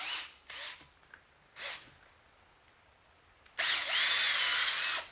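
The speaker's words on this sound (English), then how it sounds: "You're going to ream this hole a little bit to give it a little bit of taper." A power reamer bites into a hole in a Mopar 512 stroker engine block, short whirring bursts followed by a longer, louder sustained grinding run near the end.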